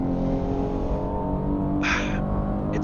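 A Genesis G70 engine drones steadily at low revs from inside the cabin, a loud, even rumble that holds for a few seconds, with a brief higher-pitched whine near the end and no voices.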